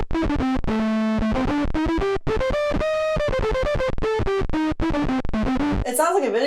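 A violin run through a fuzz pedal gives a buzzy, distorted, synth-like tone. It plays a quick run of short bright notes, some held, with a chirpy video-game character, and ends in a warbling swept squeal.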